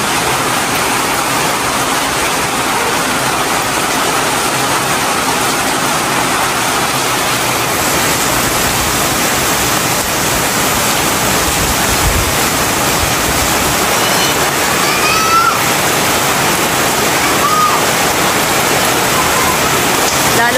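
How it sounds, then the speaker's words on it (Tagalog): Very heavy rain roaring without pause, a thick, loud wash of falling water that sounds almost like a waterfall, with faint scattered drips. "Grabe po, napakalakas po ng ulan ngayon."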